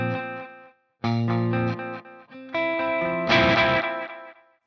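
An electric guitar plays through a Fuzz Imp Furia distortion pedal into an Echo Moon delay: thick, saturated chords ring out in short bursts with brief gaps, ending on a bright, dense swell that decays with echoing tails. No voices are heard.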